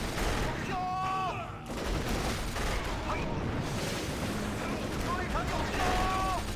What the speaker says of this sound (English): In go the mortars